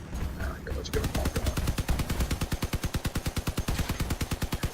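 Three Aspect guns on a Crossout spider build fire in a long, steady, rapid stream of loud shots, starting after a short quieter lead-in with background game noise.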